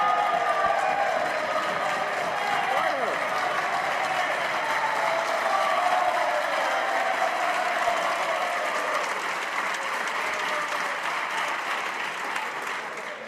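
Sustained applause from a chamber full of House of Commons members, a dense steady clatter of many hands with faint cheering that runs unbroken and tapers slightly near the end.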